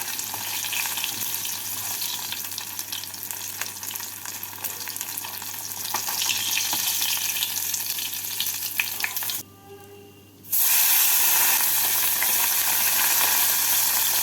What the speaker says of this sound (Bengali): মাছগুলো ভাজা হয়ে গেছে উঠিয়ে নিচ্ছি বাকি মাছগুলোকেও একইভাবে ভেজে নিতে হবে